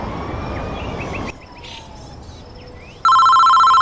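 A phone ringtone plays during a call: a tonal electronic chime at the start with background noise, a quieter gap with faint beeps, then a loud sustained ringing tone that cuts in sharply near the end.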